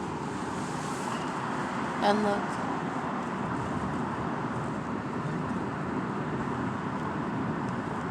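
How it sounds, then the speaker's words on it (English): Steady car traffic hums along the Las Vegas Strip near Planet Hollywood, a constant roadway rumble with a brief spoken remark near the middle. "And now you just hear noise of cars."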